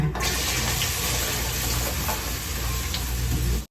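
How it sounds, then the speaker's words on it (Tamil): Okra dropped into hot oil for a Tamil-style okra stir-fry, giving a loud, steady broadband sizzle that starts abruptly, holds for about three seconds and then cuts off, with no talking. "சரி வாங்க வெண்டைக்காய் போட்டுக்கலாம் எண்ணெயில்"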